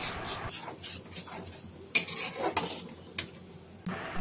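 Cashew paste stirred continuously in a kadai for doi rui, a Bengali fish curry, with soft scraping and occasional metallic clinks of the spoon against the pan, close and fairly quiet.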